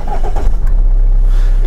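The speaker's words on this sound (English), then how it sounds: "if I just turn the car on" A 2019 Jeep Compass starts up: a brief cranking burst, then the engine settles into a loud, steady low idle heard from inside the cabin, with no talk.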